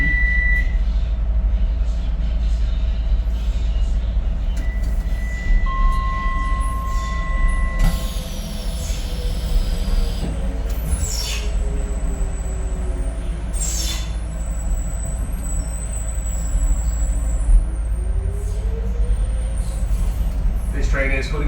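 A DLR light rail train runs between Canary Wharf and Stratford in London, a steady low rumble and hum of wheels and motors inside the carriage, with door chimes and brake squeals over it and a recorded announcement voice.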